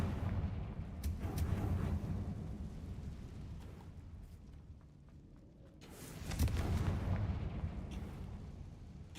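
Confringo explosive spells in Hogwarts Legacy, two sharp blasts with booming, rumbling bodies over continuous game noise, the second burst after a brief quieter lull.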